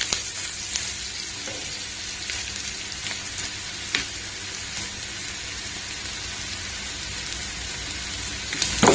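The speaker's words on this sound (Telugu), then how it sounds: "మూత పెట్టేసి ఒక 2 మినిట్స్ ఫ్రై అయ్యే వరకు వెయిట్ చేద్దామండి" Curry leaves and a pinch of turmeric frying in a pan for a mango ginger chicken fry, giving a steady close sizzle with occasional sharp pops and crackles and no talking.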